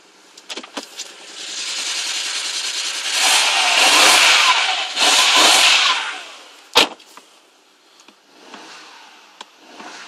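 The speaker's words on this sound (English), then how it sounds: "That's running on 5 cylinders." A BMW 135i engine misfiring on five cylinders idles and revs unevenly, with a roughening rise to two loud bursts, a sharp pop, then a quieter uneven idle with intermittent clicks, close by and with no voices.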